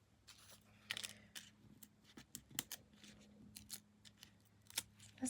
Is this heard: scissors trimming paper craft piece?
yes